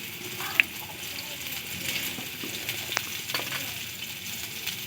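Turmeric and spices fry in a pan for an egg and potato dish, a continuous soft sizzle with a few sharp utensil taps, close and steady with no speech.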